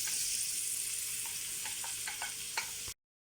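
Garlic and beef sizzle in a pan for a beef burrito, a steady close hiss of frying with a few soft scraping stirs near the end before the sound cuts off abruptly.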